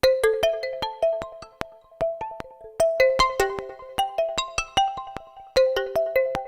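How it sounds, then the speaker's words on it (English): A synthesized bell arpeggio made in Logic Pro X, with bright plucked tones stepping up and down in a quick repeating pattern, each note decaying fast. It sounds close and clear, alone with no voice. "I think I found something that is kind of a bell arpeggio thing."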